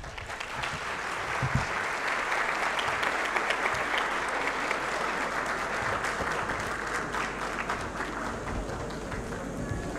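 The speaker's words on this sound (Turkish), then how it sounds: "Güçlü alkışlarınızla koromuzu, beyefendileri sahneye davet ediyorum" An audience at a Turkish folk music concert claps steadily to welcome the men's choir onto the stage, a dense sustained crowd applause lasting about ten seconds with footsteps and some voices mixed in.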